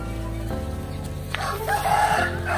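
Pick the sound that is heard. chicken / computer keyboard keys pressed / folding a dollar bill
chicken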